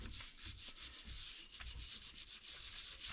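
Scrubbing a badly rusted vice grip clamp gone green with corrosion, steady close rhythmic abrasive rubbing strokes at low level with no voices.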